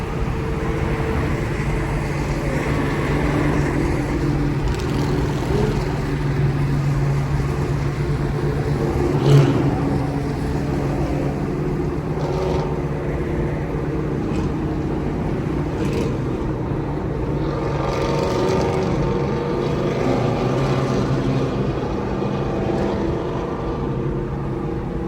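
Loud Ford Mustang engine driving during a car cruise, a continuous deep exhaust rumble with steady road noise and slight swells in revs, heard from a following car with no talking.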